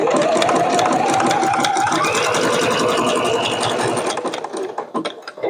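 A sewing machine stitches applique on a quilt block, running in a steady, loud, close mechanical whir for about four seconds before slowing into a few uneven stops and starts.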